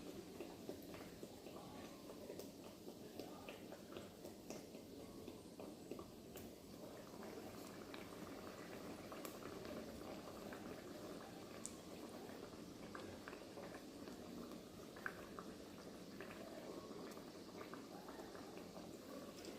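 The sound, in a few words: very hot oil heating in a Dutch pot for frying dumplings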